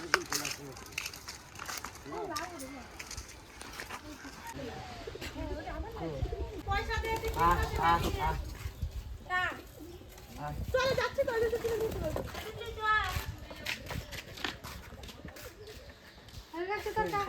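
Pigeons coo repeatedly with soft throaty calls close by, while people talk throughout.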